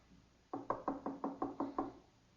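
Seven firm knocks on a door in a steady, even rhythm, fairly close, with quiet around them.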